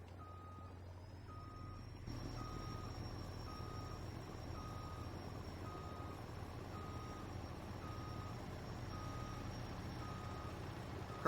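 A truck backs up in a farming simulator game, its reversing alarm beeping in a steady, evenly spaced rhythm over a low engine rumble that grows louder partway through.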